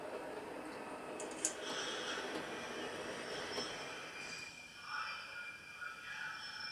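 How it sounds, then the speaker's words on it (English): A model train runs along its track in a steady, quiet rolling rumble with faint wheel squeals and light clicks throughout, heard alone at low volume. "And the train's coming back now."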